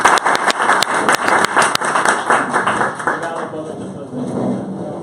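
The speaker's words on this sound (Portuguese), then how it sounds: "pedi uma salva de palmas" Audience applause at a panel event winding down, dense clapping loud and close at first, then thinning and fading into scattered claps with background murmur.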